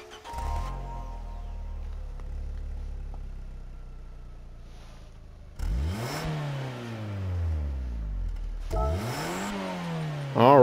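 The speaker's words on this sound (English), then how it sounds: "We'll listen to the startup sound" A 2008 Fiat 500 1.2 8V Lounge SS in Gran Turismo 7 starts up and idles with a small-engine hum, then revs twice, each sharp rise in pitch falling back down, close and alone.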